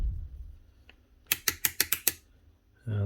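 Trigger switch of a Bosch GSH27 breaker hammer clicking six times in quick succession, sharp crisp clicks at close range in a quiet room, followed by a brief low thump.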